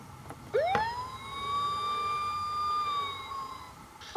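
A VTech Turn and Learn Driver toy siren rises sharply to a steady electronic wail that holds for several seconds, then cuts off, with a few clicks around it.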